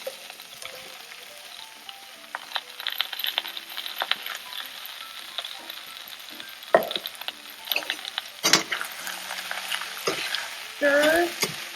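Mushrooms and herbes de Provence fry in a pan over a low sizzle, stirred in repeated scraping strokes with sharp clacks of a utensil against the pan, close and fairly loud.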